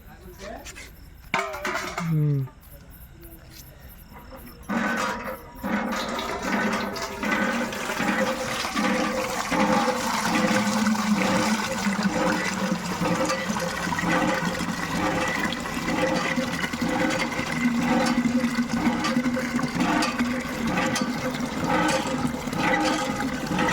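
Water gushes continuously from a newly drilled borewell at a home. The steady rushing flow is heard up close, with a few clinks at the start and voices talking over it.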